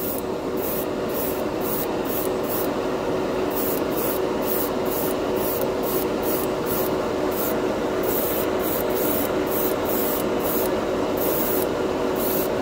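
An aerosol can of clear candy spray paint hisses in a long, steady spray that keeps going for several seconds, with brief flutters in the high hiss.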